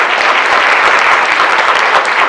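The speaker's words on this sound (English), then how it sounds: "let's first give yourselves a round of applause for this wonderful summit" A crowd at a chamber DEI summit applauds, a dense, loud, continuous wash of clapping sustained evenly throughout.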